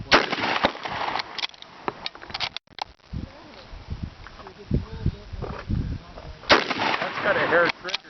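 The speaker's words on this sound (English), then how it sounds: "It's first time shooting a 303 Enfield number 5 Mark 1 Jungle Carbine" Several loud rifle shots from a .303 Enfield No. 5 Mk 1 Jungle Carbine at a 50-yard outdoor range, sharp cracks spread irregularly across the stretch with a person talking between them.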